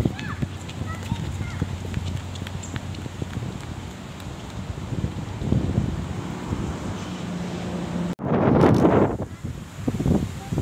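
Gusty wind buffets the microphone outdoors during a fishing session, a steady rumbling roar with a harsh burst near the end, while people talk over it.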